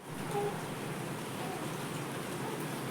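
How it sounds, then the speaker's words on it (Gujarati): Steady rain falling outdoors on a mid-afternoon, a soft, even hiss of drops that holds at a constant level throughout with no voices. "તો શરૂ થઈ ગયો વરસાદ."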